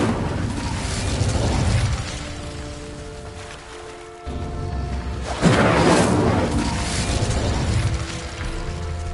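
Incendio fire spell effect in a game, a roaring, crackling burst of flame that swells, dips, then flares again loudly, sustained over several seconds.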